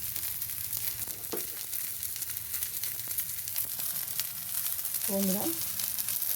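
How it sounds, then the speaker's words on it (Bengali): Eggplant fries in a pan with a continuous, moderately loud sizzle and a few soft stirring clicks, while a voice speaks briefly near the end. "দেখো বেগুনটা আমার প্রায় হয়ে গেছে ভাজা"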